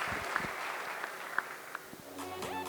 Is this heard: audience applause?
yes